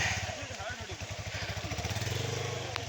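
A Hero Xpulse motorcycle's engine thumps in a fast, regular low pulse as it is ridden along a forest route, close and prominent, with a brief sharp click near the end.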